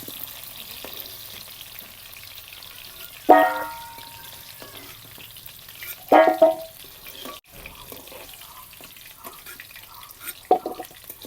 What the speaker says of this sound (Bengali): আলুটাকে হালকা ভাজতে উঠায় নিলাম।